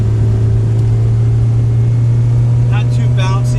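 A Honda Integra on new coilovers driving along a road, a constant low engine drone and road rumble inside the cabin, with someone talking over it toward the end.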